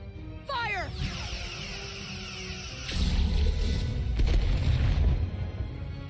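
Starship weapons firing and striking in the Star Trek Resurgence game: a sweeping laser-like zap opens, then heavy booming impacts and crashing rumble build through the rest, loud and layered.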